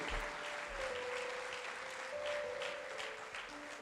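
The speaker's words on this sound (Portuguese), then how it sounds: "Aplauda a Deus pela vida dos atores." Applause rises from a church congregation during a service, a steady broad wash of many hands clapping for the actors, carrying on without a break to the end, with a faint tone held underneath.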